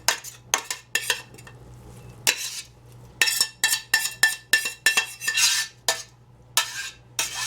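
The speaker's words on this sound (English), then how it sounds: "Just putting the collards on over my pressure cooker." Metal pot and lid clatter as collard greens go into a pressure cooker, a run of sharp clanks and scrapes in quick irregular bursts, close and fairly loud over a steady low hum.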